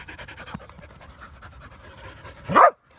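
A dog pants rapidly up close, then lets out one short, loud bark or yelp before falling quiet.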